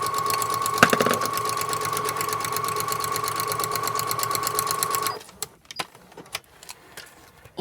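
A sewing machine with a standard needle and thread stitches through a cap in a fast, steady, even run of close rhythmic clicks, then stops after about five seconds, leaving a few scattered handling taps.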